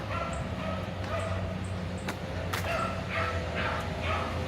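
A dog in Central Park yips and barks repeatedly in short bursts at middle distance. Steady outdoor park ambience runs underneath.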